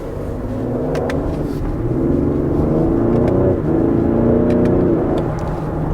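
A 400 hp Ford Explorer ST accelerates hard, its engine note climbing steadily through a couple of gear changes, heard as a loud continuous interior roar.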